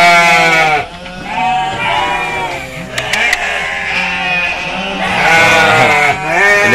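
A pen of sheep and goats fed fermented tofu dregs bleats noisily, several loud, overlapping calls rising and falling close by, one after another with barely a pause.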